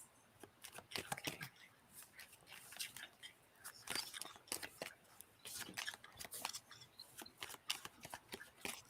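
Cards being shuffled during a card reading, a run of quick crisp riffling bursts repeating across the stretch, close and fairly quiet with no talking.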